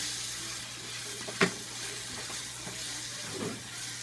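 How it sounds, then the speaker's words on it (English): Food with seasoning packets gets a quick stir in a kitchen pan: a soft continuous sizzle with one sharp utensil knock and a couple of faint scrapes, fairly quiet and close, no talking. "I'm going to give this a quick stir up"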